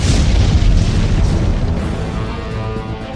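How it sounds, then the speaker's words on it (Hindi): The first of a series of bomb blasts in a crowded Ahmedabad market area at dusk, a loud deep boom that rolls and rumbles on for several seconds as it slowly fades, with no voices. "पहला धमाका।"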